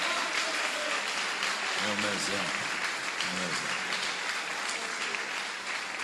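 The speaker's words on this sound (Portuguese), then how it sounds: "Eu acho que ela merece uma salva de palmas aqui" Congregation applause during a church service in Campina Grande, a steady wash of clapping that fills the room while someone speaks briefly over it.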